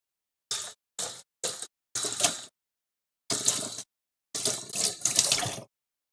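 Kitchen tap water runs into a sink in a series of short bursts, close and moderately loud, as a knife is rinsed between stops and starts of the flow.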